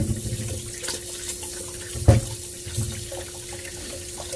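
Tap water runs steadily into a sink as flour is washed off hands while making Jamaican dumplings, a close continuous stream with one brief louder splash midway.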